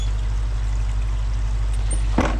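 Water flows steadily through a Seneye pond monitoring unit on a koi pond, a soft continuous trickle under a strong low hum, with one brief louder splash near the end.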